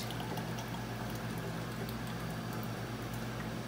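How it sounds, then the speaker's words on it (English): Homemade salsa pours steadily into jars, giving a continuous soft liquid trickle at close range with no talking. "I'm going to pour a couple of these"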